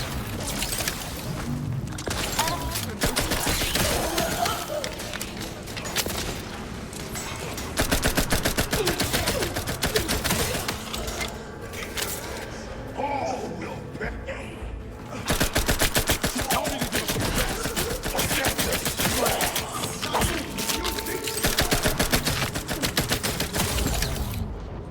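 SMG fire in The Outer Worlds 2, long dense bursts of rapid automatic shots rattling almost without pause, swelling in loud waves with brief gaps between volleys.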